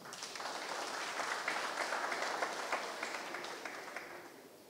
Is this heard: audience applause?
yes